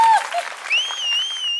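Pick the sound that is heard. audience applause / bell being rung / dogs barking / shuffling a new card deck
audience applause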